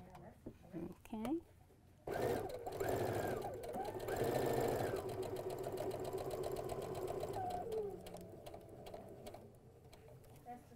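A sewing machine stitches a quilt seam in a steady, fast whirring run lasting several seconds, framed by a person talking before and after.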